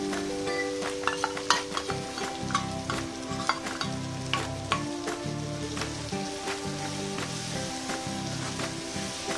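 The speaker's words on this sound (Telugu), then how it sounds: "ఈ పేస్ట్ కొంచెం నూనెలో వేగితే టేస్టీగా ఉంటుంది కర్రీ" Spice paste sizzling in oil for cluster beans masala curry, a continuous crackle broken by stirring clinks and scrapes, with a low humming tone in the background.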